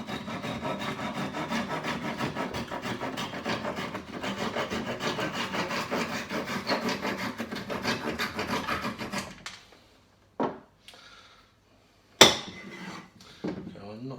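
Hand carving into wood in a workshop: steady scraping and rasping strokes run continuously and fairly close, then stop, followed by a few isolated sharp knocks and scrapes in quieter surroundings.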